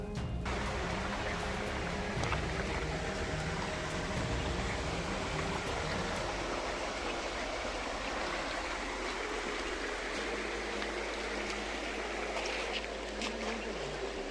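Water rushes in a continuous, dense roar, like a mountain spring flowing steadily close by at the source of a river, with no voices.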